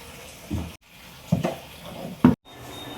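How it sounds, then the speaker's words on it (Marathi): Sweet jaggery puris frying in hot oil, with short bursts of sizzling and bubbling as each one is moved or turned, separated by quiet gaps and heard up close. "गोड पुऱ्या आपण ज्या लाटल्या त्या गोड पुऱ्या आता त्या तळून घेतोय।"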